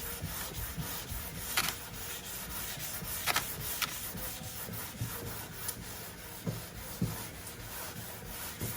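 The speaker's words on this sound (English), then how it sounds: "some people will just fold up a piece of sandpaper and sand this by hand, but when you block it, it makes all the difference in the world" Wood is sanded by hand with sandpaper on a block in continuous close rasping strokes, with occasional light knocks between them.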